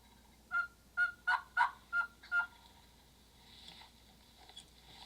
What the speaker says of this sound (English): When he starts gobbling like that